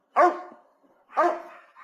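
Dogs bark in a backyard where a mandolin and accordion are being played to them: two loud, close bark bursts about a second apart, each trailing off, with no talk.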